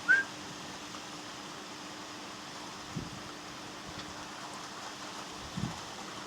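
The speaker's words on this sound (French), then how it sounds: "ça pleut fort" Heavy rain falls during a violent mountain thunderstorm, a steady, faint hiss that runs throughout, with a few soft dull thumps in the background.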